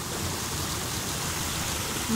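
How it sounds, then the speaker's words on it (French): A small waterfall on a river gives a dense, steady rushing roar, close and unbroken from start to finish, with no voices. "La petite cascade là."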